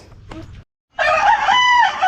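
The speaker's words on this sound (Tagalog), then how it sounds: "Andun yung manok, dalawang manok sa kulungan." A rooster crows loudly and close by after a brief cluck and a pause, with two chickens kept in a cage.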